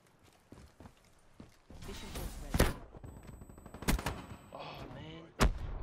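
Shotgun blasts in a video game match, several loud sharp reports spaced irregularly amid other gunfire and game noise, with faint voices underneath.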